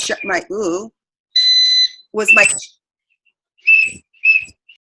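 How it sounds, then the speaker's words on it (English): Short bursts of high, steady whistling tones come and go between stretches of someone talking, clear and fairly close. "I don't know who's whistling, but can you put that on mute, please?"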